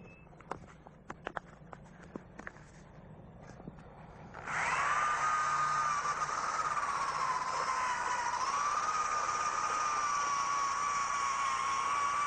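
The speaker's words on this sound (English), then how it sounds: "What we're going to do now is take our drill" A power drill fitted with a sanding attachment strips loose paint and rust from a car body toward bare metal, starting after a few seconds of light tapping and running as a loud, steady, continuous whine with slight pitch wavering.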